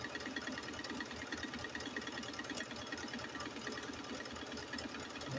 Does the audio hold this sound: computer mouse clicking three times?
no